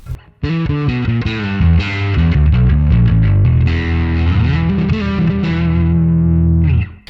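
A bass guitar through the Neural DSP Nano Cortex Bass Distortion 1 preset plays a gritty, growling riff with sustained, saturated low notes, loud and continuous before stopping abruptly.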